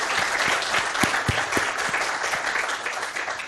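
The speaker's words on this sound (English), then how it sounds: "I'd like to ask the audience to join me in giving a round of applause to them" Audience at a panel discussion on the Afghan peace process claps for the panelists, a steady wash of applause with a few sharper individual claps standing out near the start.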